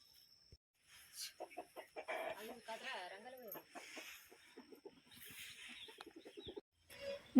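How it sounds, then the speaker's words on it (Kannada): Village-yard chickens clucking in short, scattered calls at moderate distance, with someone talking over them at times. "ಕೋಳಿಗಳು ಕಾಳು ಹಾಕೋಣ ಅಂದ್ಬಿಟ್ಟು ಅವ್ರು ಹೊಟ್ಟೆ ಹಸಿಯುತ್ತೆ ಅಲ್ವಾ"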